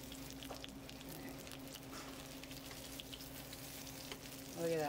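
Steady crackling sizzle of fish katsu pan-frying in hot oil, continuous and close, with a louder burst of spattering right at the end.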